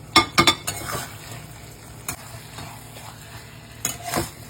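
Fried paneer cubes tipped into a pan of cooked-down sauce for dry chilli paneer, then stirred: a few sharp clacks and scrapes of spoon on metal up front, a quieter stir in the middle and another clatter near the end.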